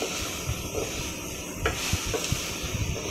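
Colocasia stems frying in a pan with salt and turmeric, a steady soft sizzle with scattered stirring scrapes and clinks throughout, no talking.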